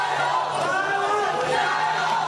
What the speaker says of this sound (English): Cheering crowds even held up signs expressing their anger at the decision to disqualify Yang